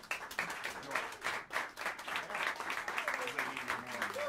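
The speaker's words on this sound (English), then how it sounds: "please give a warm round of applause" Jazz club audience applauding to welcome the Frank Lacy quartet at Smalls Jazz Club, a steady dense wash of many hands clapping close and loud throughout, with a few cheers mixed in.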